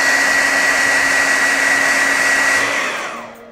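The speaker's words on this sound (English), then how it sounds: "a blow dryer and some hot water and soap will do the trick" A blow dryer runs with a loud, steady whirring roar to heat crayon marks on a wall, then spins down and fades near the end, with no talk over it.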